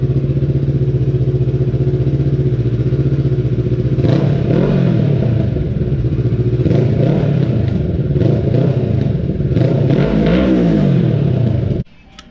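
A Kawasaki Z650 motorcycle idles loudly and revs in several bursts through a budget slip-on exhaust with its baffle fitted. It gives a steady, deep close-up drone with rising and falling throttle blips, then cuts off abruptly near the end.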